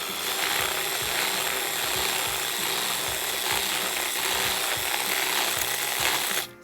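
A 3/8 drill bit enlarges a hole for a Clippard valve on a Neutrona Wand prop, giving a steady, loud power-drill whir with a rough, grinding texture that runs for several seconds and then cuts off abruptly at the end.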